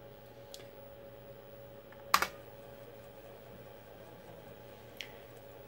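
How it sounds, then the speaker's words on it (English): A few sparse, soft keystrokes on a 1980s portable computer keyboard, with one sharper click standing out against a faint steady hum in a quiet room. "Go back to typing again."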